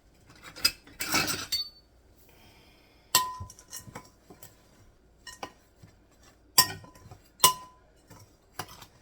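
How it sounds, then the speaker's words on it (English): A spoon mixes oatmeal quick bread batter with chocolate chips in a bowl, giving sparse sharp clinks and scrapes in irregular bursts, close and clear with no voices. "we're going to mix all of that together"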